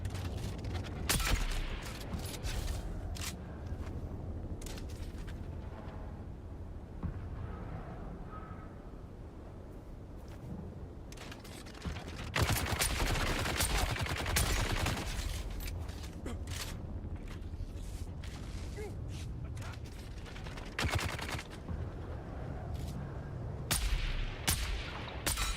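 Gunfire in the survival video game Dune Awakening comes in repeated sharp bursts and scattered shots over game ambience, with someone talking at times throughout.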